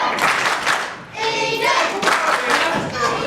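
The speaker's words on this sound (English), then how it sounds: "Listen to this crowd" A live wrestling crowd roars and cheers in a noisy arena, loud and sustained with surges of shouting, clapping and thumps, dipping briefly before swelling again.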